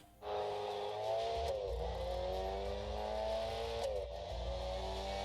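A Mini Cooper's engine revs hard in a racing video game, a loud, steady rising whine that dips briefly at gear changes and climbs again, heard alone without talk.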